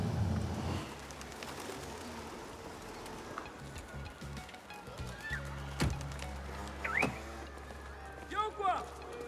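Pigeons coo softly outdoors among a busy background of voices and clatter, with a few more coos near the end.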